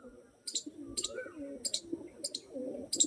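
Tournament-quality racing pigeons coo in low, rolling murmurs, with bright, sharp chirps cutting in at a steady pulse about every half second across the short stretch.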